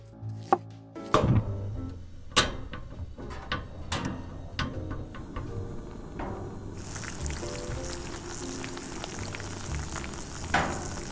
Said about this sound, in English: I'm going to be making myself some kimchi sandwiches